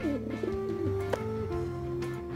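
Soft, repeated cooing of a pigeon-like bird in the video game Randal's Monday, a few rolling low coos close up over a faint background hum.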